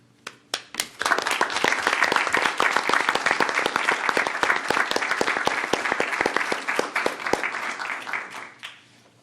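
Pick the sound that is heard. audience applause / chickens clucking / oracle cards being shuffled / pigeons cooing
audience applause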